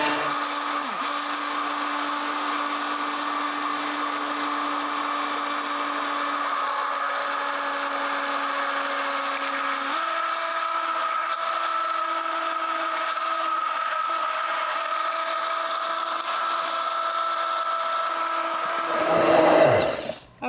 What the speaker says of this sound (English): So I'm just going to turn the mixer on and sprinkle the gum in.